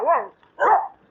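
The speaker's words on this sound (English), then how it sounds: "there's some more dogs" Two sharp, close dog barks less than a second apart, heard outdoors during a morning ride on an electric trike.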